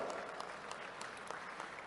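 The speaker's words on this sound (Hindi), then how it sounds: "यशस्वी प्रधानमंत्री का जोरदार ताली बजा के अभिनंदन करो।" A crowd at a public government event in Rajgarh claps in honour of the Prime Minister, a faint, distant patter of applause.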